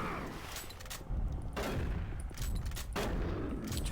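Heavy gunfire in the shooter game Doom 3, with dense bursts of booming shots and blasts filling the scene, loud and continuous with brief dips between volleys.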